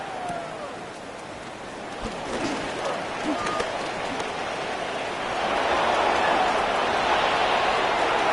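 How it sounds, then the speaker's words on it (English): Steady rain hisses across the field during the second half of a game in College Football 26. The broad, constant wash swells slightly near the end, and a commentator talks over it. "The rain set to continue as we are underway in the second half."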